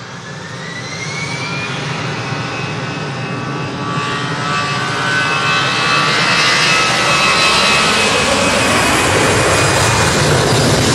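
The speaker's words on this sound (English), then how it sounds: "The Cessna citation you can hear." Cessna Citation business jet at Manchester Airport, its engines a loud, steady roar with a rising turbine whine that builds and holds across the whole stretch, with no talk over it.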